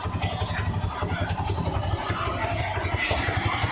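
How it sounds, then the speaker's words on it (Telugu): An old Phoenix moped engine with a modified silencer runs steadily, a close, loud, evenly pulsing putter with no talk over it. "ఇంజన్ సౌండ్ కూడా వినేసేయండి ఒకసారి."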